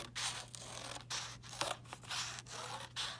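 Scissors nibbling and turning through paper to cut out an oval leaf shape, a quick run of short crisp snips in bursts with brief pauses, close and clear over a steady low hum.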